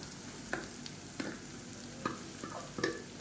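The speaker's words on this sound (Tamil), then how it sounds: "இந்த எண்ணெயிலே நல்லா கிறிஸ்பியாக வர அளவுக்கு இந்த வாழைக்காயை வந்து வறுத்து விட்டுக்கலாம்" Mashed raw plantain frying in oil with golden onions in a pan for plantain rice, a steady soft sizzle with several sharp stirring scrapes and clinks at intervals.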